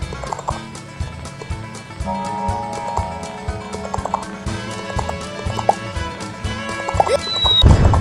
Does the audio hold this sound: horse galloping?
yes